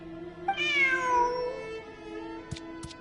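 A cat in the game Genshin Impact gives one clear, drawn-out meow that rises then falls, followed by two short clicks.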